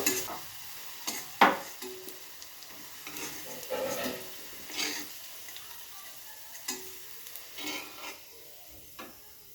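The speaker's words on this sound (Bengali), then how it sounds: "দেখুন বন্ধুরা আমার আলু ভাজা হয়ে গেছে, সুন্দর লাল লাল করে ভেজে নিয়েছি" Potatoes fried in oil in a pan give a soft, steady sizzle, broken by intermittent scraping stirs and light clinks of a utensil against the pan, fairly quiet and without talk.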